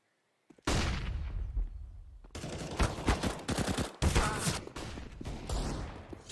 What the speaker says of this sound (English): That's an AWP.